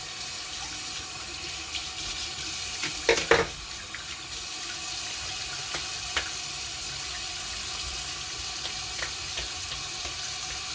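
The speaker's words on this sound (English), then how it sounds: "gonna rinse off real quick here" A bathroom tap runs steadily while someone rinses off after a straight razor shave, a continuous close hiss of flowing water with a brief splash or clatter partway through and no talking.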